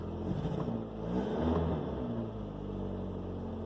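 Opel Combo petrol engine catching and settling into a steady idle, a low rumble with a brief swell as it fires, heard close and alone without talk.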